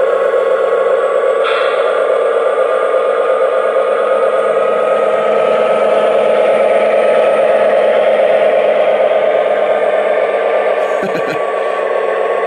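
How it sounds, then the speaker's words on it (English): A Lionel Santa Fe Super Chief LionChief toy train engine runs with a loud, steady electric whir and hum that holds evenly throughout, with a brief clicking rattle near the end. "Now, you may have noticed that when I started the engine moving, it took a little while for it to come up to speed"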